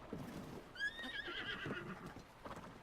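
A horse in the video game Zelda: Breath of the Wild gives one clear, high whinny with a bright, wavering tone, together with light hoof clip-clops, alone and at moderate volume.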